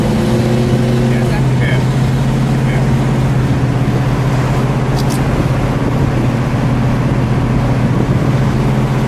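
A 1970 Buick GS Gran Sport with the 455 Stage 1 V8 runs loud and close, giving a steady, deep rumbling drone with no clear revs, heard alone from start to finish.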